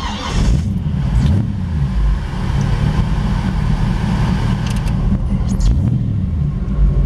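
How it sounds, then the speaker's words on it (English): A 1933 Ford three-window coupe street rod engine idles with a deep, loud, steady rumble and a few brief rising revs, heard close up outdoors on an overcast day. "We thought we'd fire it up here and take it down the road for you."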